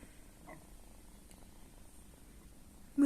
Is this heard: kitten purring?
yes